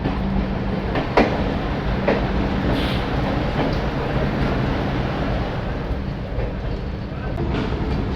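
Chambal Express rolls slowly into Pandit Deen Dayal Upadhyaya station on a rainy morning, a steady broadband rumble of wheels and carriages with faint intermittent clacks and squeaks, continuous and fairly loud, with possible rain in the background.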